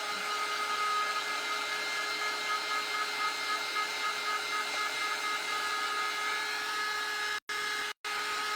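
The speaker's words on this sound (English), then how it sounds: "Let's blow dry these suckers, because they're pretty wet." A hair dryer blows steadily on wet pumpkins, a close, even whirring hiss with a constant whine that runs uninterrupted before cutting out twice in quick short gaps near the end.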